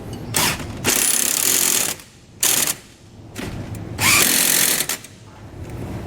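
A power tool snugs down nuts on a tandem axle trailer rubber equalizer, whirring loudly in several bursts of a second or two each with brief pauses between, close by.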